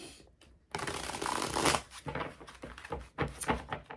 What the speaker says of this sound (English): So I'm going to put these cards back in, and then we'll shuffle